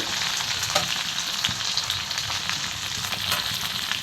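Cumin, pepper, green chilli, ginger and curry leaves fry in hot ghee or oil in a pan, a bright, steady sizzle with scattered pops and light stirring taps, close and loud, with no voices.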